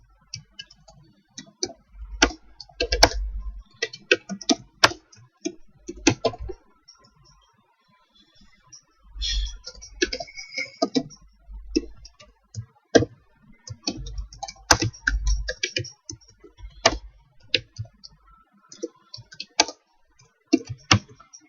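Bursts of typing on a computer keyboard while writing a short C program, quick irregular key clicks in clusters separated by brief pauses, close and moderately quiet with no talking.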